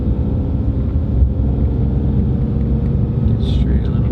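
A tuned Mercedes-Benz engine and exhaust give a deep, steady rumble, heard close and continuous from inside or beside the car.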